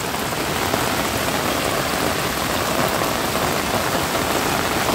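Steady rain pours down across flooded farm fields and cornfields in the Jujutla area, a dense, even hiss of drops on surfaces that runs without a break, close and moderately loud, with no talking.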